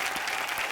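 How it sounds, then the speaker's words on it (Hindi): Dense studio audience applause from a Hindi comedy talk show, a steady wash of many hands clapping at once, loud and continuous with no gaps and no voices. "एक बार शान और राधिका के लिए जोरदार तालियां"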